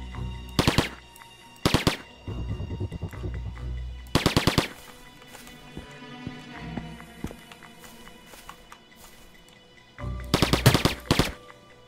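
Gunfire in a shooter video game comes in several loud, rapid automatic bursts separated by quieter stretches of in-game sound and faint steps. No one speaks over the shots.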